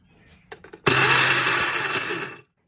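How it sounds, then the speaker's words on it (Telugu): A mixer grinder whirs loudly and steadily for about two seconds after a few short pulses, grinding a coarse mixture of chillies and peanuts. "ఇప్పుడు వీటిని మిక్సీ పట్టుకున్నాను"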